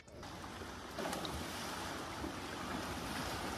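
A swollen, cold river rushing fast, a dense and steady roar of churning water with wind buffeting close to the microphone.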